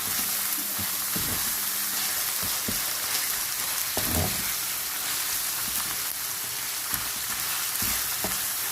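Minced meat with fenugreek leaves frying in a pan, giving a steady, dense sizzle throughout with a few soft stirring scrapes, close and alone with no talking.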